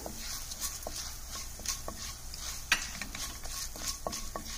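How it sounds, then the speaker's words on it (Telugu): Urad dal and coriander seeds frying in a pan for cabbage pachadi: a low, steady sizzle with intermittent scrapes and clicks of stirring, close and fairly quiet, with no voices. "ఇలా ఒకటి తర్వాత ఒక ఇంగ్రీడియంట్ వేసుకుంటూ సన్నగా వేపుకుంటూ ఉండాలి"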